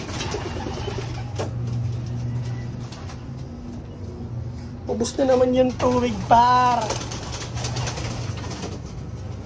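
Pigeons coo close by, a few soft throaty calls rising midway, while someone talks over a steady low background hum.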